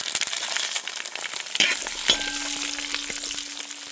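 Mustard seeds, urad dal and slit green chilies sizzle and crackle steadily in hot cold-pressed groundnut oil close by, with a faint metallic clink partway through.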